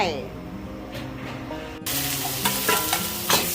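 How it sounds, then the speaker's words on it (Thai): Curry paste of pounded galangal and lemongrass stir-fried in a hot pan, with a steady sizzle that grows louder after an abrupt shift partway, plus scraping strokes from the spatula; a voice is faintly present. "นี่ผัดเครื่องแกงก่อน"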